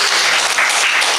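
A crowd at a women's free training camp ceremony in Mangalore applauds loudly, a dense, even burst of clapping that holds for the whole moment with no talk.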